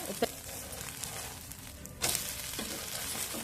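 Rice flour dosa frying in a pan gives a steady, quiet sizzle that continues throughout, broken by a couple of faint clicks.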